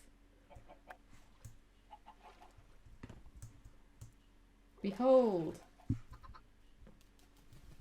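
Minecraft chickens give a short burst of clucking around the middle, mixed with clicks and game sounds while a person talks.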